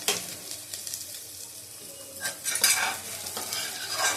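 Sliced ridge gourd cooking in a pan over low heat, a gentle steady sizzle with utensil stirring and scraping sounds rising in short bursts near the end, close and moderately quiet.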